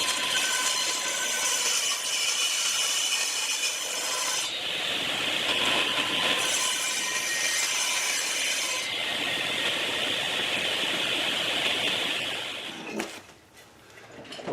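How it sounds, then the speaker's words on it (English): A router or saw cuts a channel for a 2-way truss rod down the center of a wooden baritone guitar neck, giving a loud, steady abrasive rasp that runs almost throughout and shifts pitch in stretches, then dips briefly near the end. "the next thing I'm going to do is cut a channel down the center of the neck for this 2-way truss rod"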